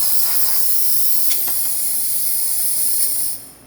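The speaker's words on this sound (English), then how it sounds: "It still produces nice strong steam." Steady, strong steam hiss from a Gaggia espresso machine steam wand blowing continuously at close range, then cutting off abruptly near the end.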